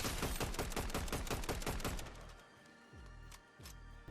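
Rapid bursts of automatic gunfire from a cheater's weapon in a video game: dense, repeated loud shots for two seconds, then sparser heavy single thumps with short gaps.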